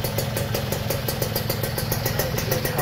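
A rebuilt motorcycle engine with an overhauled, oversized block and water circulation idles close by, a smooth, steady, rapid pulsing putter with light mechanical clatter and no talk.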